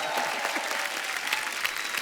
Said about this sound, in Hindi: बहुत जोरदार ताली हो जाए।